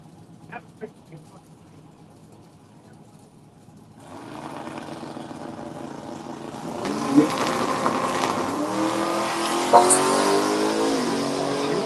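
A race car on a circuit approaches. Its engine roar swells from quiet into a loud, sustained rush, and voices talk over it.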